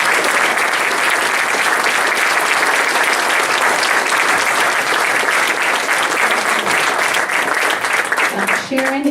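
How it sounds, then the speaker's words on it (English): A forum audience at a congressional candidate event applauds the candidates, a dense, continuous round of clapping that holds steady and loud throughout before tapering at the very end. "we need to applaud them again"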